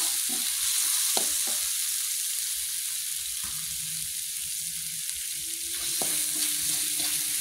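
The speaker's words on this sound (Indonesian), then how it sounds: "ini kita masukkan salam dan lengkuasnya ya. Kita aduk-aduk." Bay leaves and galangal fry in a pan for a green-chili pindang lodeh, giving a steady sizzle broken by light scraping and clinks as they are stirred.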